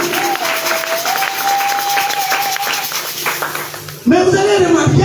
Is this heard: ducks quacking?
no